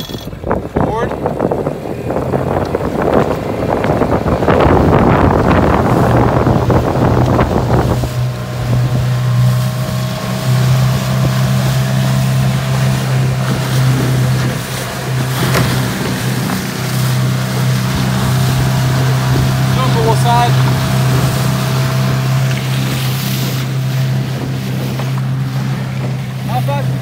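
A 1998 Mercury 8 HP two-stroke outboard motor runs steadily on a boat, its loud droning buzz holding an even pitch throughout, with wind buffeting the microphone and water noise around it.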